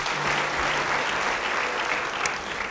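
Congregation at a church service clapping steadily throughout, a dense, sustained wash of hands filling the room with no voices over it.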